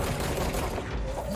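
Rapid gunfire bursts in the action video game Control, dense overlapping shots and booms filling the short moment at a loud, close level without speech.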